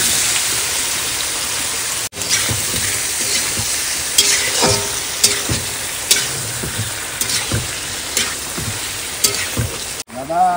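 Ingredients go into a hot pan with whole cumin seeds and sizzle loudly while being stirred, cooked outdoors near a Sundarbans river in heavy rain. Scattered utensil clanks and scrapes sit over a constant frying hiss.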